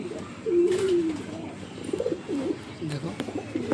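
A pet pigeon, mother of newly hatched chicks, gives soft low coos in short phrases, close by, with a faint chirp and quiet background noise between calls.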